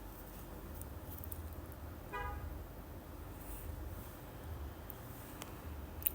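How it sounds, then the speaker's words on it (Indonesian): A single short car horn toot sounds at a distance over a low, steady traffic rumble. "Klakson, iya."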